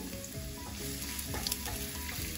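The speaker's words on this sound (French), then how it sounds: "je vais faire rissoler tout ceci. Alors là, j'ai mis un petit peu d'huile de tournesol. Je vais mettre l'oignon." Onion frying in a little sunflower oil, alongside green onion and leek white, a steady, close sizzle that runs continuously with crackles throughout and no talk.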